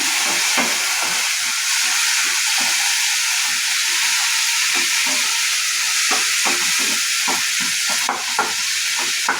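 Chopped tomato hits a hot pan with ginger and garlic for a soya chunk and avarekalu gravy, giving a steady loud sizzle throughout, broken by soft scraping stirs and light ladle taps, with no talking.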